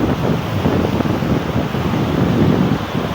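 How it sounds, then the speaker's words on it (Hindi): Strong wind roars steadily across a microphone on a bridge over water, a loud, constant broadband rush with no talk. "ऊपर से इतनी तेज़ हवा चली हुई है"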